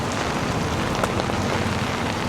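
Heavy, non-stop rain pours in Da Nang, Vietnam, a dense, steady hiss of drops hitting surfaces that stays loud and unbroken throughout with no voices.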